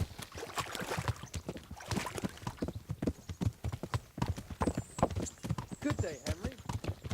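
Rapid hoofbeats of horses in the video game Kingdom Come: Deliverance clatter in a steady galloping rhythm throughout, loud and close, with voices talking over them.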